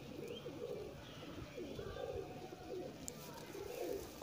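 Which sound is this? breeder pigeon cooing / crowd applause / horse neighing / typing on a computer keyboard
breeder pigeon cooing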